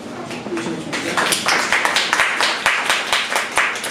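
Audience at a live podcast show clapping in a quick, fairly even rhythm, close and loud, with a few scattered voices underneath.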